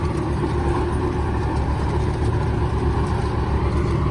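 A John Deere 5055E tractor engine running steadily in third gear, a constant low rumbling drone with an even mid-range hum and no pauses, close and fairly loud throughout.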